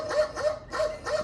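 A dog barking in four quick, evenly spaced barks, fairly close and clear, with nothing else going on.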